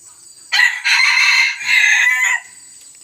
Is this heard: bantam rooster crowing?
yes